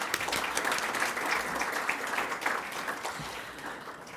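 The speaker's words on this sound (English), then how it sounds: "Let's give them another round of applause." An awards-ceremony audience applauds steadily, a dense wash of many hands clapping that holds for a few seconds and then gradually thins and fades.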